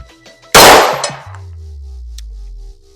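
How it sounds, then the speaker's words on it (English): A single sharp, loud crack from a Glock 19X-style hybrid pistol rings out close by, followed by a brief clatter and then a steady low hum that fades out. "We fired 6 or 7 rounds."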